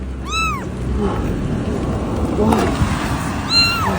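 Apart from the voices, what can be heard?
stray kitten meowing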